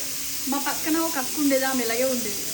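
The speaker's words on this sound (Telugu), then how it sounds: "నెక్స్ట్ ఆయిల్లో ఫ్రై చేస్తుంది" Fish pieces fry in hot oil for an Odisha-style fish curry, giving a steady sizzling hiss that runs beneath a voice heard throughout.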